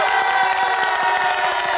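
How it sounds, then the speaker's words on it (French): A studio audience cheers and applauds for Mr. Love, a dense wash of shouting and whooping voices with scattered claps beneath, loud and sustained through the short moment. "on peut applaudir bien fort,"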